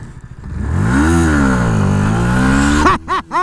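A Yamaha MT-125 motorcycle revs hard during a wheelie, its engine note climbing and holding loud and close before chopping off into a few sharp blips at the end.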